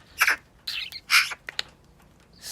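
Small aviary bird chirping in short bright bursts, a few separate tweets and trills close by with brief pauses between them, no talk.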